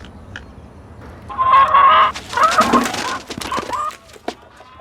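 A chicken on a rural homestead clucks loudly and close up in two agitated bursts, followed by fainter scattered clucks and rustling.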